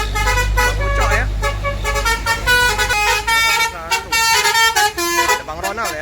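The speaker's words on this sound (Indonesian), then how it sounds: "bus 301 masuk ya di kota Palembang" An ALS intercity bus, number 301, pulls into Palembang with its horn sounding in loud, repeated musical toots over a low idling engine rumble, while people talk nearby.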